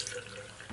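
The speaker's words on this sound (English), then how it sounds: "wet this down with warm water" Warm tap water runs steadily from a faucet onto a shaving brush, a soft, close splashing that lasts under a second.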